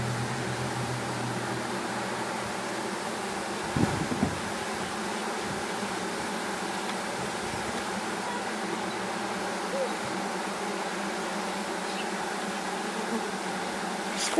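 A steady, dense hum of about 4,000 honeybees in a hive fills the whole stretch, a continuous buzzing drone with a brief thump partway through.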